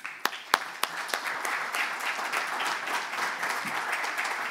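A business forum audience in Buenos Aires applauds to welcome a roundtable moderator, opening with a few sharp individual claps that swell into steady, moderately distant applause from a crowd.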